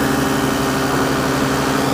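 A cross-country aircraft engine losing RPM from full throttle, sinking from about 9,400 toward 8,000 RPM during an in-flight engine failure, produces a loud, steady, close droning roar throughout, with no voices.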